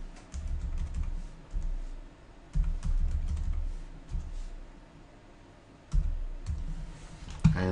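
Password entered on a computer keyboard, in uneven bursts of quick key clicks separated by short pauses, close and fairly quiet.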